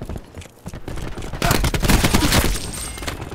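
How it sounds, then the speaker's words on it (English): Rapid gunfire in a Call of Duty Black Ops 4 match crackles in dense bursts, building louder and busier in the second half, with no talking over it. "Can this guy please stop freaking shooting like a million times?"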